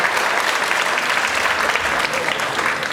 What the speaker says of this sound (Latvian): Tātad aplausi arī deju grupai Stihija no Rīgas.